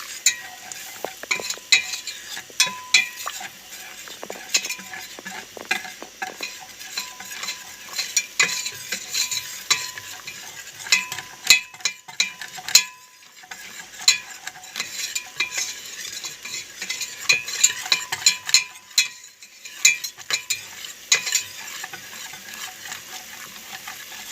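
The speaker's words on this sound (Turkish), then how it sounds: "Bunu tereyağıyla güzelce tereyağı sıvıya karışımı güzelce kavruluyor arkadaşlar." Flour roasting in melted butter for a tripe and trotter soup (kelle paça) is stirred in a pan, giving a steady sizzle with frequent scraping clicks of a spoon against the pan throughout, with no talking.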